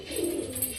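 Pet pigeons coo close by from a rooftop perch, a single soft low throaty call rising and fading over less than a second, clear and alone without talk.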